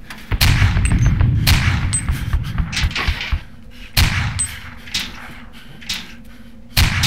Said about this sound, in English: Warning! Snipers!